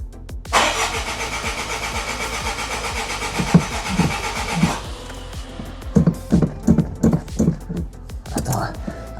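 An old Peugeot 205 that has not run for years cranks with repeated starter pulses, catches and runs roughly, then stutters through uneven bursts of revving as people talk nearby.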